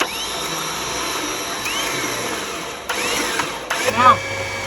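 A vehicle engine idles steadily during a winch test on a car braked and locked on a concrete surface, a continuous hum under background sounds with a few louder knocks and bursts near the end.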